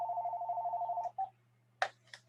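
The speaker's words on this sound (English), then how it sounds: "You've got a telephone that's ringing" A telephone rings with a rapid trilling electronic tone for about a second, then gives a short second burst, followed by a couple of brief clicks or knocks in an otherwise quiet room.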